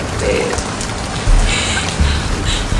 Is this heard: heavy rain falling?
yes